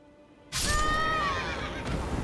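A horse in the video game Elden Ring lets out a single loud, shrill whinny that rises abruptly, wavers for over a second, then fades, heard alone without speech.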